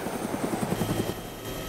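Helicopter in the Arma 2 DayZ Mod, a steady rotor chop with rapid rhythmic thumping over a constant engine whine, close and fairly loud throughout.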